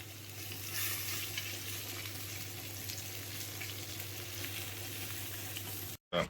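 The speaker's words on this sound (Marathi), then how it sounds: "आता फ्राय होतील तर तुम्हाला दाखवतो." Pomfret fish fry in hot oil, a steady close sizzle with a low constant hum beneath it, ending in a brief cut-out just before the close.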